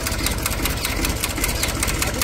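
A village tractor engine running nearby, a loud continuous rattling chug with a rapid steady pulse, heard alone without talk.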